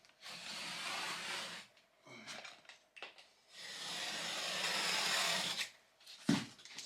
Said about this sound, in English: Score it. After it's scored, breaks pretty easy.